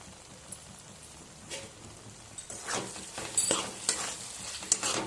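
A spice paste fried with sugar in a pan for a shrimp and taro-stolon curry is stirred, giving soft scraping and faint sizzling that build in the second half, with light clinks near the end.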